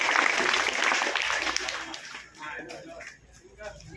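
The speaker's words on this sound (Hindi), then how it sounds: "एक बार जोरदार तालियां हम सभी के लिए।" Loud, sustained clapping from a group welcoming a new teacher, a dense crackle that thins out toward the end, with voices mixed in.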